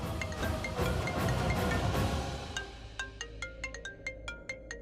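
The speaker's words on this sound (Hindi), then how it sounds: "इस लड़की का फोन बज रहा है" A mobile phone ringtone chirps in a quick, regular series of bright electronic tones, rising out of a noisy, rumbling background that fades as the ringing continues.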